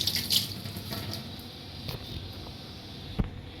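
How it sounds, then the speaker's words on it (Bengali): Running tap water splashes steadily into a sink while rohu fish is rinsed, a close, continuous wash with a brief louder splash near the end. "রুই মাছ, এটা ভালো করে ধুয়ে নেব।"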